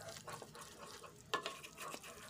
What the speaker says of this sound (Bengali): ভাজা মশলাটা 2-3 চামচ দিয়ে একটু নাড়াচাড়া করে কষিয়ে নিচ্ছি